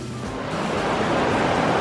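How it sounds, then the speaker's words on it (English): A waterfall in the Scottish Highlands gives a broad, constant rushing roar that swells slightly, heard up close and alone with wind-like noise mixed in. "there's a waterfall"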